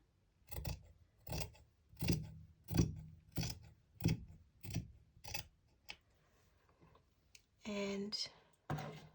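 Scissors snip through fleece along a marked line for a knitted glove lining, a steady run of about eight close, crisp cuts followed by a brief rustle of fabric.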